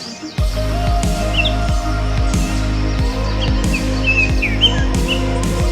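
A song thrush sings in a backyard, its bright, varied phrases faint and distant behind a loud, steady rhythmic mechanical hum that dominates the foreground.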